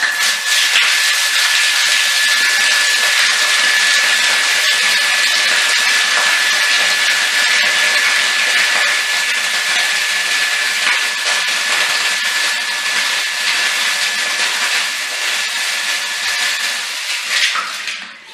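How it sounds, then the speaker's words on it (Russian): A Vikhr ASV-370/2Ch water pump supplying a broiler chicken coop runs with a loud, steady, continuous motorized whine and hiss, close up and unbroken until it tapers right at the end. "включаем насос."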